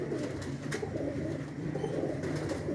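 Pet pigeons, three pairs kept together, coo softly in low, rolling, repeated calls with a steady murmur of cooing throughout and faint higher chirps over it.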